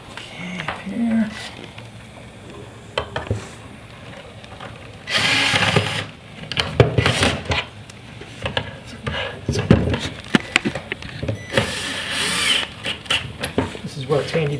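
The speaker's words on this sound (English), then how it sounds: "This is where it's handy to have a light on your drill" A cordless drill drives screws during assembly of a Rockwood Kitchens wall pantry cabinet, with several short whirring bursts and clicks amid handling noise and a person talking.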